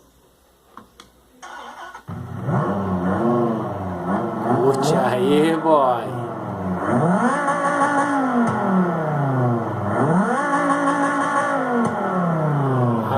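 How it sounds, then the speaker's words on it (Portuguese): A Dodge Viper's engine starts and revs hard close by, with repeated rising and falling sweeps of throttle and a steady loud idle in between; someone talks briefly over it. "Vamos escutar a zoeirinha do motor."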